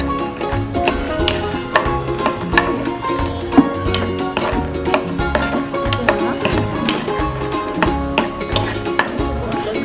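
Peanuts fry and stir in a pan for mango pulihora, with steady scraping and clinks of a spoon against metal over a continuous sizzle, at close range with no talking.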